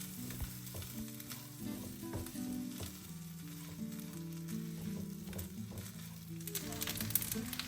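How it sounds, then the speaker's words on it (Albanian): Rice for pilaf fries in a pan while being stirred constantly, giving a soft, continuous sizzle with faint stirring scrapes and steady tonal background sounds throughout. "Orizin do vazhdojmë ta skuqim vazhdimisht duke e përzier her pas here."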